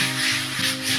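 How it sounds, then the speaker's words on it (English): Steady, hissing abrasive rubbing from sanding down freshly plastered bedroom walls in a small cottage renovation, close and continuous with a faint underlying hum. "Started already sanding down"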